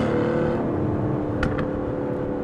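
An Aston Martin Vantage in Sport Plus mode idles with a deep, steady engine rumble as its exhaust flaps open, a continuous low drone at close range with no speech.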